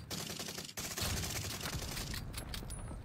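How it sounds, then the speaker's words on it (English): An airstrike in the shooter game Warzone lands as a dense rumbling barrage of rapid blasts and crackling gunfire-like bursts, loud and continuous across the moment, with no speech. "Here comes the airstrike."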